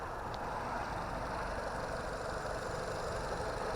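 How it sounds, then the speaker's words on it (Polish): A Renault Modus engine idles with a steady, even low hum, running smoothly and continuously at moderate volume with no revving. "Silniczek pracuje równiutko"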